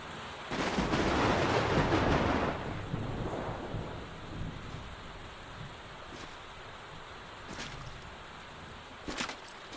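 Heavy rain pours with a deep rumble of thunder in a night scene of the Soul Calibur 6 video game, the thunder swelling loud early then fading into a steady wash of rain with occasional faint crackles.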